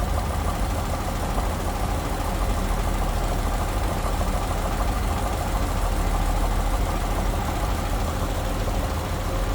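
A 1931 Chevrolet dually flatbed truck's inline-six engine idles steadily and evenly, a continuous low rumble with no talking over it.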